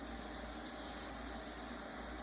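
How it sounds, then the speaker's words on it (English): Cold water from a kitchen tap pours steadily into a bowl, a constant even hiss and splash with no talk over it. "you're going to put cold water in a bowl."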